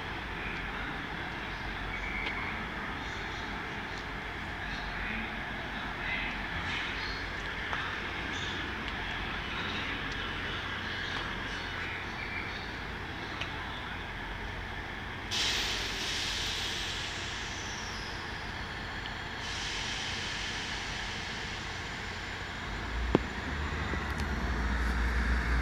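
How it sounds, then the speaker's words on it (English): A South West Trains service pulling out of platform three at Basingstoke station, a steady low rumbling drone of the train with rising engine noise and a sudden bright hiss partway through, heard from the platform. "So the train just about to leave off of platform number three is our 1 Lima 40 Southwest train service from Exeter St David's to London Waterloo."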